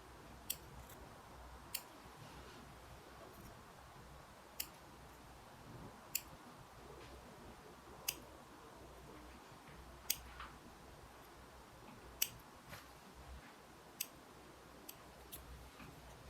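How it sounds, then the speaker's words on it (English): Cuticle scissors snip dead skin from around a fingernail, small sharp clicks spaced roughly every one to two seconds over a faint steady background hiss, quiet and close with no voices. "cuticle scissors and I'm going to cut the dead skin off"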